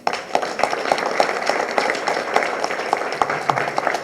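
Audience applause at a closing event in a hall, steady hand clapping of moderate size with sharp individual claps standing out, sustained for the full few seconds.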